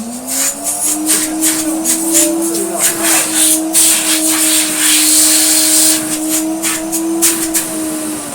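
A restored French Moulinex E59 vacuum cleaner set to 600 watts runs with a loud, steady whine, its pitch holding even while someone talks over it.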